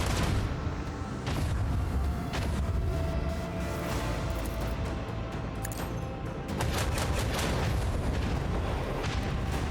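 Heavy turret fire from a starship in Warhammer 40,000: Rogue Trader space combat, loud booming blasts and repeated sharp shots over a constant dense roar of battle.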